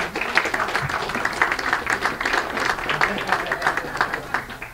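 Sustained, dense applause from a seated audience at a film festival press conference, many hands clapping together at moderate distance for several seconds without a break.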